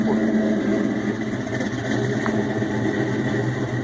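A steady, low exhaust rumble from a supercharged 4.6 V8 Mustang GT with BBK long-tube headers and BBK X-pipe idles close by, even and continuous throughout.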